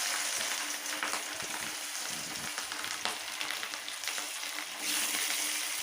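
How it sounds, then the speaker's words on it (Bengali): Rohu fish pieces fry in hot oil with a dense, loud, continuous crackling sizzle and occasional stirring scrapes, with no one speaking. "আমার বাকি যে মাছগুলো আছে সেগুলোকে আমি একইভাবেই ভেজে নেব।"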